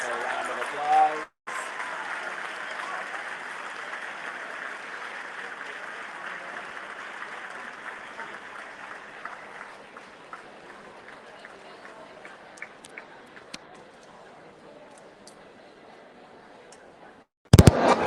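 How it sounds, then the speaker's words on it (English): A crowd applauds the castellers after a human tower in Barcelona, a long, steady wash of clapping that slowly thins and fades over many seconds, with a brief sharp burst at the very end. "Asking for a round of applause."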